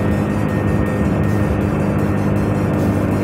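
Hero Splendor motorcycle cruising at about 60 km/h on an empty forest road in cold weather: a loud, continuous engine drone mixed with heavy wind rush, steady and unbroken throughout.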